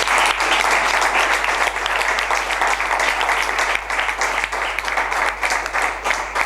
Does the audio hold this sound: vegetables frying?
no